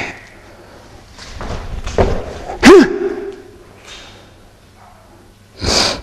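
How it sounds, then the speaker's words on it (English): Feet landing with a heavy thud during an advanced tai chi broadsword move, one sharp loud impact in the middle followed by a second thump near the end, with soft shuffling and breaths between. "See if you can hear the feet when they land."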